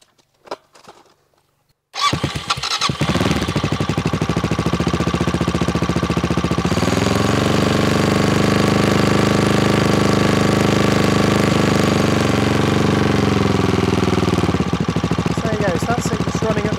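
CCM 2022 Spitfire Six Stealth motorcycle engine cranking and catching after a moment of near silence, then a loud, close, steady thumping idle that settles and runs on.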